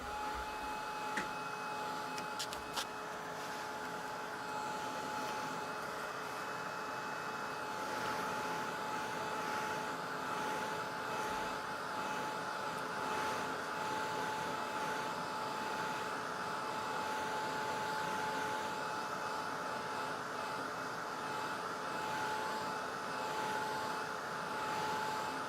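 A hair dryer blows steadily on a watercolor painting of a city square, a constant loud whooshing hum that runs unbroken for the whole stretch with no talk.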